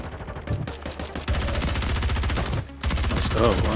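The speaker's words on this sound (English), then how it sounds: "Two different teams, fighting with pistols." Pistol gunfire in a video game as two teams fight, with rapid, close bursts of shots coming in quick succession alongside game sounds.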